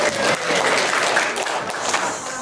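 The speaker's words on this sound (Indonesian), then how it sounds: "tepuk tangan untuk semuanya." Short burst of audience applause at a national education seminar in Tuban, Indonesia, with brisk clapping from a crowded hall that stays loud and fairly even throughout.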